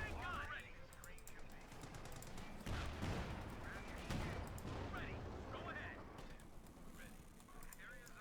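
Tank gunfire from the Company of Heroes 2 strategy game, a Sherman firing on a Panzer, with sharp shots and heavy battle rumble spread over a steady noisy din, overlaid by a commentator's voice.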